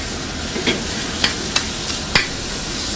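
Diced andouille, a lean smoked spiced pork sausage, sizzles steadily in a hot pan as its fat renders out, with a constant frying hiss broken by several sharp pops and crackles.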